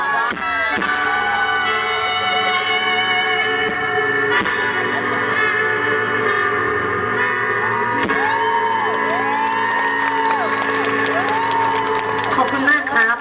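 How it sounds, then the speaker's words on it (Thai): Crowd applause and cheering at a live Thai music concert in Sattahip, loud and sustained with whoops and shouts over lingering instrumental tones and ringing sounds, continuing for the whole stretch. "ขอบคุณเสียงปรบมือครับ"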